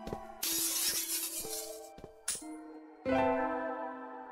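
Glass shattering in the horror video game Misao, a sharp crash with scattering shards, then a brief second crash and a louder third burst, all over sparse game music with no talk.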